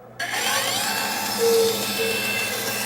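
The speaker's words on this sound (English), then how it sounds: "With a bandsaw, you can take the fence off entirely and make freehand cuts." Bandsaw cutting wood freehand, its motor whine starting abruptly and holding steady, with the pitch shifting briefly as the blade bites into the workpiece.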